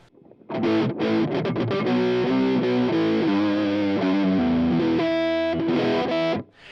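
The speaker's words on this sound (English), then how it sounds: "that LED diode distortion is just a sweet singing distortion" MOTU DP9 MultiFuzz LED diode distortion on a sustained, singing electric tone, a loud saturated chord-like sound with shifting notes that starts abruptly and cuts off near the end.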